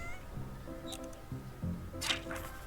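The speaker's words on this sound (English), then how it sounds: "Ooh, a cat." A black cat in the video game Wytchwood gives several short, close meows in quick succession, with soft game ambience underneath.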